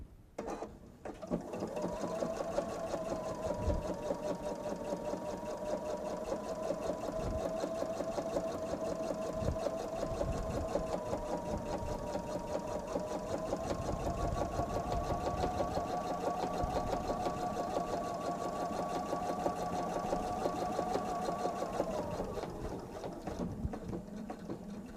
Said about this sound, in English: And now I'm just going to stitch right down the sashing.